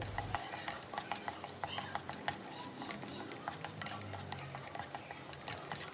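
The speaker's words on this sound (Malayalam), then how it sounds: "പച്ചമണം മാറുന്നത് വരെ നന്നായി വഴറ്റാം അടിയിൽ പിടിക്കാതെ നോക്കണം നല്ലോണം ഇളക്കണം" A paste of green chilli, shallot and garlic being sautéed and stirred in a pan, faint soft sizzling with regular light scrapes and taps of a spoon, quiet throughout.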